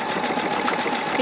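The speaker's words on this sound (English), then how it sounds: "and now I would sew." A PFAFF Creative Icon sewing machine stitches stippling through fabric with stabilizer underneath, a fast, steady mechanical whirring with a quick rhythmic needle chatter, close and continuous.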